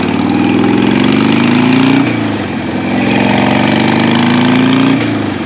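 A carbureted 2006 Harley-Davidson Sportster runs loud and close, its steady engine note swelling twice in long, smooth rises and dips with no voices over it.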